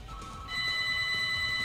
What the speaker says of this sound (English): Quiet, phone! You've interrupted this on more than one occasion.